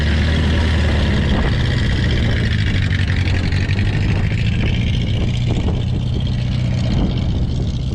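An old WWII Willys jeep, after years of sitting, running in second gear in four-wheel drive low, a steady loud low engine drone with constant throaty rumble and no pauses.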